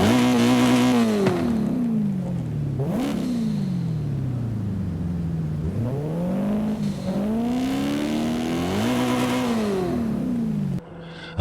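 A 2012 BMW M5 V8 engine in Forza Horizon 5 revs up and down repeatedly, its pitch climbing and dropping in smooth sweeps, loud and close with no talking.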